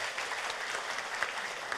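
A crowd at a cryptocurrency event in Korea claps in a short burst of applause, dense and even, heard at a moderate distance for just under two seconds.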